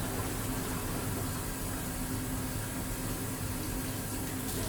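Steady rushing tap water rinses a film developing container at a photo lab sink, a constant close hiss with a faint low hum and no voices.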